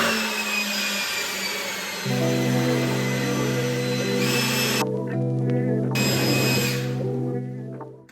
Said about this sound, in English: So we're gonna try the old leaf blower today.